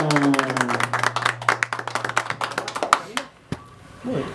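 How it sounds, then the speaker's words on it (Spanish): Guests clap at a birthday celebration with a youth mariachi band, sharp hand claps ringing over a fading sustained musical note, then tapering into a few scattered claps before a voice begins. "Y ese aplauso bien fuerte,"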